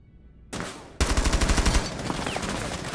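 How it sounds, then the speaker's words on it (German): Automatic gunfire in the video game Rainbow Six Siege, a sudden loud burst of rapid shots breaking in after a brief quieter lead-in, close and continuous to the end. "Da hat der Gegner schon auf mich geschossen"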